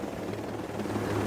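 A helicopter in the Ghost Recon Breakpoint video game gives off a steady, loud rotor and engine drone that continues evenly throughout, with no voices.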